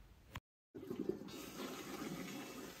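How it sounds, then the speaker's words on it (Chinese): A toilet that has been in use for about ten years flushes, then refills after a brief silence with a steady rushing and trickling of water, quiet and close. "听这个上水"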